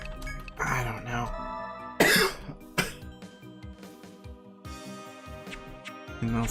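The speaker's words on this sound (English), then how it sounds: "I'll feel a little bit of phlegm, but I'm not sure if I'll ever cough it up" Repeated throat clearing and harsh coughing bursts while trying to bring up phlegm, several loud rasping efforts spread across a few seconds with game music playing underneath.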